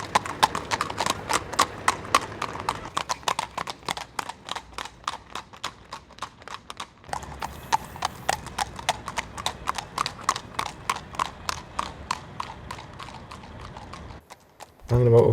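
Steady clip-clop of horse hooves on a hard surface, a brisk repeating rhythm that continues throughout with a short pause near the end.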